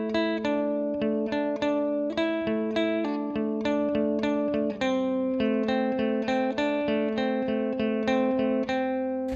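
Electric guitar playing the solo measures of Incubus's "Talk Shows On Mute," a steady run of picked notes with sustained ringing tones and slides, played alone at an even volume.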